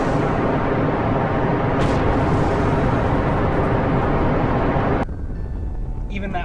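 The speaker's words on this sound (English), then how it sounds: "this is a really, really heavy rocket. Without further ado, I mean, what else can you say? Let's just fly it." A very heavy rocket launches in Kerbal Space Program with a steady, loud roaring engine rumble that holds for about five seconds, then drops to a quieter drone.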